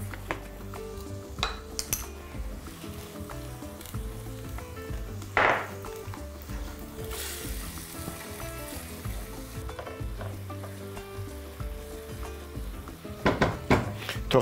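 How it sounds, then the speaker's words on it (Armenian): Chopped onion fries with a steady sizzle in a pan, with scattered clinks of utensils against cookware and occasional stirring scrapes, all close and without talk. "Թող տապակվի սոխը"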